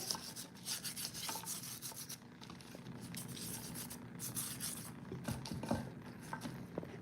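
Hands rub seasoning over green beans in a pan, a steady close scratchy rubbing and rasping texture with small clicks, continuing for several seconds with no talking.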